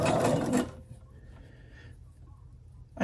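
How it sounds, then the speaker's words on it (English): A sewing machine stitching fabric rectangles together for a Halloween mask, a dense fast whirring run for about half a second, then quieter light mechanical clicks and handling, and a brief restart at the end. "we are just going to stitch these rectangles together, starting at one long edge"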